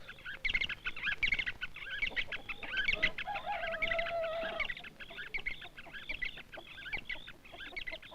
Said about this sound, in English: A bird chorus of Darno's barbets calls them as soon as the sun is up.